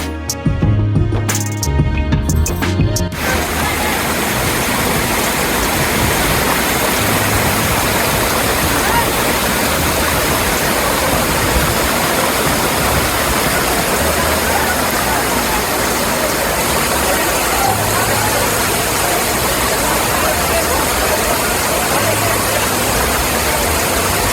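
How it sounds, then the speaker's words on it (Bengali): Mayabi waterfall at Jaflong in Sylhet, a constant loud rush of falling water that fills the scene after a brief burst of other noise at the start, with no talk. "এই সময়ে সিলেটের জাফলংয়ের ট্রেন্ডিংয়ে থাকা হচ্ছে মায়াবী ঝর্ণা"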